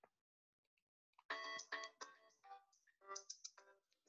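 A phone ringtone plays a bright, melodic run of short electronic notes, loud and close, after a brief quiet start.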